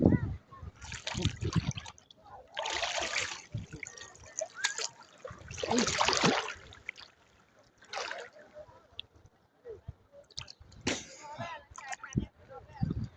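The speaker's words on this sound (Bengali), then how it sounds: "এখন নদীতে ডুবাবো।" Water splashes and trickles in bursts as someone bathes in a river on a hot day, mixed with spoken talk between the splashes.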